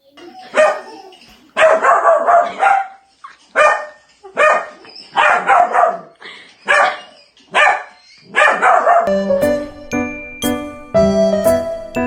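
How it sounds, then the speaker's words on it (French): A puppy yaps repeatedly in quick bursts, loud and close, followed by tinkling electronic chime notes. "Vous allez voir, quand il jappe, c'est un jappement."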